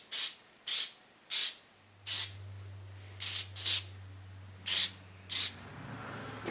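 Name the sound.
aerosol shellac being sprayed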